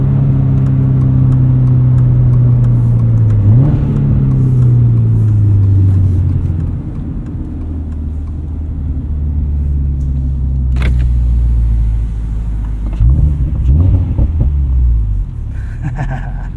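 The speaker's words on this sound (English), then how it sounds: "at higher revs, lets that engine take over, fill up the cabin" A Subaru BRZ fitted with a catted UEL header drones from inside the cabin, its deep engine rumble climbing and falling through revs, loud and close, with a few brief knocks near the end.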